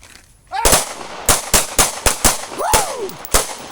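Pistol gunfire cracks out on a combat shooting range, about eight sharp, loud shots in a rapid, slightly uneven volley, each with a short ringing tail, fired close by.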